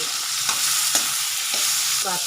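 Boiled potatoes being stirred into spices such as curry leaves, turmeric, coriander-cumin and chili in a hot pan: a continuous loud sizzle broken by several scraping stirs of a spoon against the pan.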